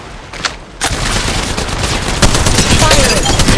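Dense automatic gunfire in the mobile battle royale Apex Legends Mobile, set in Kings Canyon, with sharp overlapping shots crackling loud and near across the clip after a brief quieter start, and a game voice faintly under the fire.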